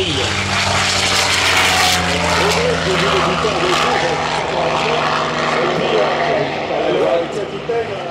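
A propeller plane makes a loud, sustained pass at an air show meeting in Guiscriff, its drone steady and close with slight pitch shifts, while an announcer talks over it.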